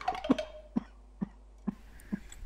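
An owl character in a narrated Bulgarian fairy tale about a forest pharmacy coughs, a cluster of hoarse coughs followed by four single, evenly spaced coughs, close and clear against silence.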